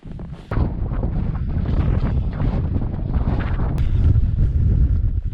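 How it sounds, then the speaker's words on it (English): Strong, gusty wind roars and buffets the microphone continuously on a hilltop in the Shropshire Hills, a low rumbling blast that builds slightly toward the end, with no talking. "you won't believe it is that windy up here, it's unreal"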